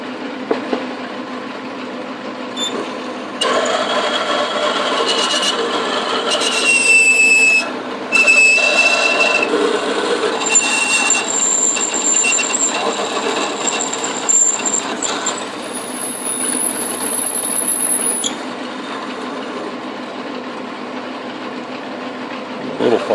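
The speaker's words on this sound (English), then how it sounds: "Oh, we're slipping in the chuck." An Atlas QC42 metal lathe turns a workpiece that slips in its chuck, a loud steady mechanical drone with shifting high whining tones that start and stop, no voices.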